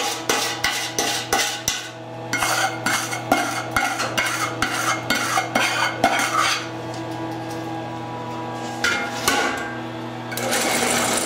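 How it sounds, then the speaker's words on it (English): Asphalt mix being scraped from a laboratory mixing bowl makes rapid, repeated metallic scraping and clattering strokes in bursts, over a steady mechanical hum, with a brief pause before the scraping resumes. "Now he'll scrape the bowl"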